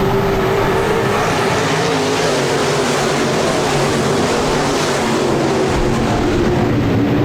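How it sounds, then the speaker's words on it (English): Modified race cars roaring around Park Jefferson Speedway under green flag racing, a loud, continuous, dense engine drone with steady high-pitched whine and no clear breaks. "as we go back to green flag racing"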